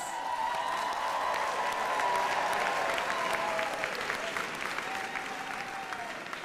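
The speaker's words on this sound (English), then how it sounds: "Let's give them another round of applause." Sustained applause from a commencement audience after degree candidates are presented, a steady dense wash of many hands clapping that holds evenly throughout with no talk over it.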